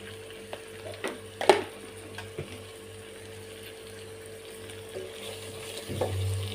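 Brinjals for sambar are stirred as they fry in a pan, giving a quiet sizzle and a few sharp spoon knocks early on, then a low steady fry with no talking.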